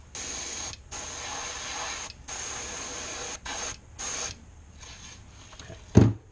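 Transparent blue paint hisses from an airbrush onto a fishing lure in a series of short, steady bursts separated by pauses, close by, ending with a sharp knock.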